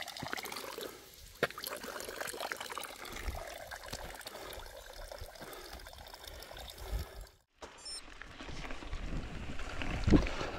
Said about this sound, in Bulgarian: Чешмата у село Параово.